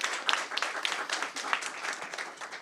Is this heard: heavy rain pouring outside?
no